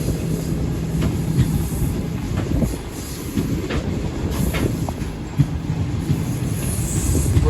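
Shalimar Express passenger train rolling along Pakistan Railways' ML1 main line, a steady rumble of wheels on track with faint rhythmic clicks and occasional squeals, heard continuously from inside the moving train.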